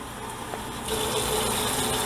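Water gushes steadily into a cooking pot for rice, a continuous, fairly quiet pour that swells slightly louder partway through.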